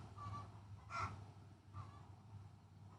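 Chickens give a few faint, scattered squawking calls over a low outdoor background hum, with no one talking.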